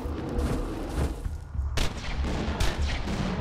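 A grenade launcher fires in the shooter Borderlands 2, giving a few heavy booming shots with sharp attacks over a rumbling battle background, moderately loud and close.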